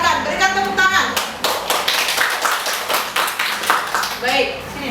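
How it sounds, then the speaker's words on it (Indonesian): A classroom of students claps for a group about to present, with brisk clapping through the middle and voices talking at the start and end. "Ya, silakan berikan tepuk tangan"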